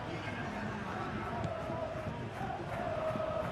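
A stadium crowd murmurs and roars in a simulated PES 21 football match between Real Betis and Atletico Madrid, a fairly faint, steady wash of crowd noise from start to finish.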